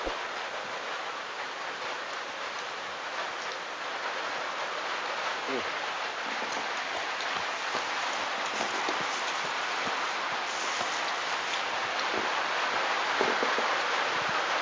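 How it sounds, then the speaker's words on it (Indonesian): Steady heavy rain hiss fills the scene, a dense continuous wash of noise with occasional louder drips and taps, constant throughout. "Hujannya semakin deras nih teman-teman."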